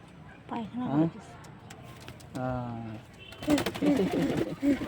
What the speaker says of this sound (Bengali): আমাদের পায়রা এই হচ্ছে এদের পরিস্থিতি